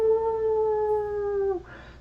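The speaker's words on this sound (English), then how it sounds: "now you hear those dogs barking" A single drawn-out howl-like dog cry in the video game Blue Prince, a clear tonal wail holding steady before dropping off, followed by a short burst of noise.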